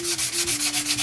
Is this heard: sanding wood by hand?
yes